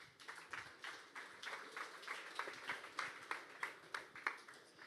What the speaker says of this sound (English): please give Ian a big round of applause